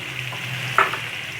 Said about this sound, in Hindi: और अब हम इसके साथ में इसको फ्राई कर लेंगे।